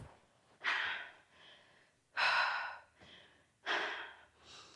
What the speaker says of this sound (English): Let's slow the breathing.